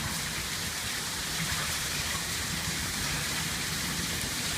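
Steady rain pours down on a house, a dense, constant hiss of falling water with no voices heard.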